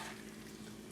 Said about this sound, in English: things are starting to sizzle